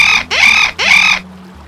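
A bird by a stream squawks happily after drinking, giving two loud, close, harsh calls in quick succession with a brief gap between them, then falling silent.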